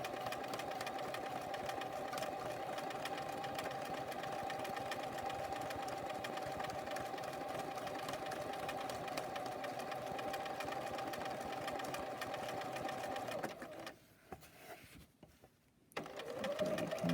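A sewing machine stitching a quilt block, running steadily for a long stretch with a constant whirring hum before briefly stopping and starting as it back tacks, close and clear with no talking.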